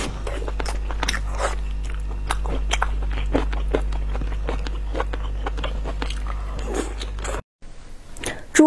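Close, wet chewing and biting on fatty pig tail meat, rapid repeated crunchy-squishy bites over a low steady hum, briefly cut off near the end.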